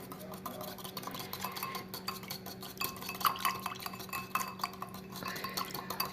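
Combined liquids, sesame oil among them, are whisked together in a bowl, giving a steady, close rhythm of utensil clinks and scrapes against the bowl at moderate volume, with no voices.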